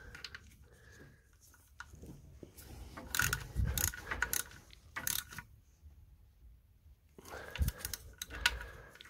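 A ratchet clicks in short bursts while tightening alternator mounting bolts on a Triumph Stag, the near mechanical ticking broken by pauses and small metallic handling noises.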